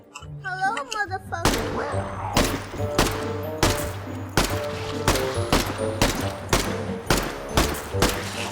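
Gunfire in the video game Zelter: a steady string of loud shots, roughly one every half second, over a low droning game soundtrack after a brief musical lead-in.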